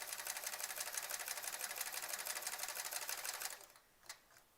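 A sewing machine stitches a quilt in a fast, even mechanical whir for several seconds, then stops abruptly, leaving a couple of faint clicks and handling sounds.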